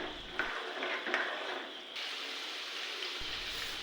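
Lentils and peanuts frying in oil for tomato chutney make a soft, continuous crackling hiss, faint and even, with a couple of small pops early on and no talking.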